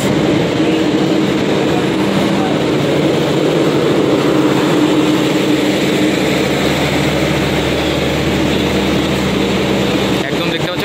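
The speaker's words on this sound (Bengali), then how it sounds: "আজকের আমাদের জার্নির যে পার্টনার, একদম নিউ 13173 কাঞ্চনজঙ্ঘা এক্সপ্রেস" The new 13173 Kanchanjanga Express with LHB coaches produces a loud, steady rumble and drone that stays even throughout, with a low hum toward the end.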